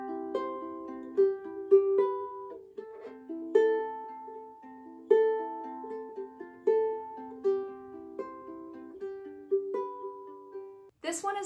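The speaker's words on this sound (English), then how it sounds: "Another option would be a really simple finger picking pattern." Ukulele played with a simple finger-picking pattern, single plucked notes rolling from the top string down and back up in a steady, gentle rhythm, close and clear with no voice over it, ending in a brief louder strum.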